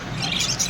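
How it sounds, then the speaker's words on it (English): Lovebirds squawk in a pet shop, a short burst of harsh, close calls. "Lovebirds available for sale"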